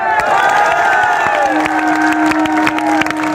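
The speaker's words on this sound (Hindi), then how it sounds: "सही है तो ताली बजाओ।" A political rally crowd in Ambah, Madhya Pradesh, claps and cheers steadily, dense hand claps and shouts continuing at an even, loud level throughout.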